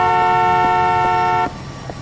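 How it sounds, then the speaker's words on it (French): A car horn blares in one loud, steady, unbroken blast for about a second and a half, then cuts off, leaving quieter street noise. "doucement avec le klaxon"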